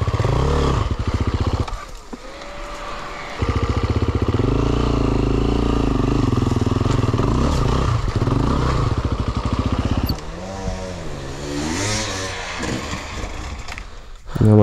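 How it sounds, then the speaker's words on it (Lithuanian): Motorcycle engine climbing a steep mountain enduro trail, the bike slipping on the slope, with loud sustained engine drone, revving surges and scraping clatter close by, dipping briefly between bursts. "motociklas slysta"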